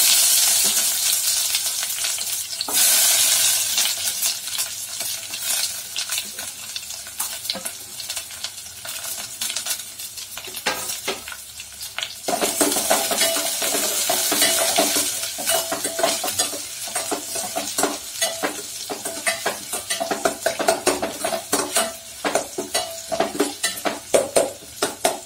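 Curry leaves and chopped big onions fry in hot oil for pepper rasam, with a dense crackling sizzle and frequent stirring scrapes against the pan. The frying grows busier and more rhythmic toward the end.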